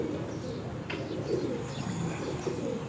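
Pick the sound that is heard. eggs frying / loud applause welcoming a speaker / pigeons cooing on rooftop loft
pigeons cooing on rooftop loft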